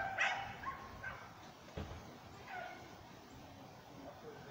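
A dog barks a few times at a distance, faint yips and barks scattered over quiet background noise, with no clear talk.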